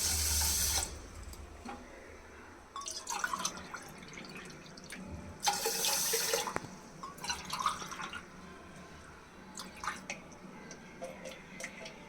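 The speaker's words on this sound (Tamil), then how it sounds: "அதுக்கு ரெண்டரை டம்ளர் தண்ணி விட்டுக்கலாம்" Water splashes and pours in short bursts into a pot of washed rice, about two and a half tumblers' worth, with trickles and drips between the louder gushes, close up.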